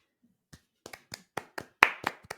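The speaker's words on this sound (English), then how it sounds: "Round of applause for this film" A small handful of people clap for a film, about ten separate sharp claps that start sparse and grow slightly louder, quiet and close by, with no crowd roar.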